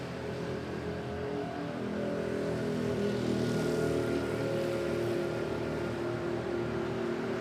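An airliner taking off at Manila Airport, a steady, loud engine roar with broad rumble that swells slightly in the middle and holds for the whole stretch, with no voices over it.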